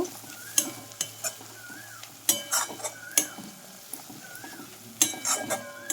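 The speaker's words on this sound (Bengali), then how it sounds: "দিলাম চানা মশলা আবারও সমস্ত কিছু বেশ ভালো করে কষিয়ে নেব" Chana masala with spices sautéing in a pan, with repeated spoon scrapes and clinks in irregular bursts over a gentle sizzle.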